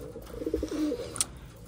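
Taiwan pigeons coo in one soft, low, rolling call under a second, close by, followed by a brief high chirp.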